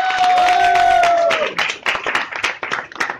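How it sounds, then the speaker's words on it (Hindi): A held musical tone fades into a burst of audience clapping at a film cast event, scattered hand claps ringing out for a couple of seconds. "एक बार जोरदार तालियां हो जाए"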